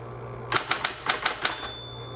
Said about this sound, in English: when you're using an electric typewriter especially